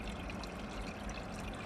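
Water trickling and splashing steadily behind the back wall of a reef aquarium tank, a soft continuous pouring wash with no talk.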